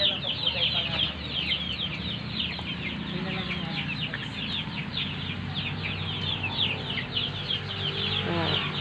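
Chickens cluck and chatter steadily, with several birds calling close by over a constant farmyard background.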